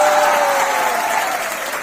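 An audience at an award ceremony breaks into applause after a Chhattisgarhi couplet, a dense, steady clatter of many hands with a faint tonal hum running underneath and a slight fade toward the end.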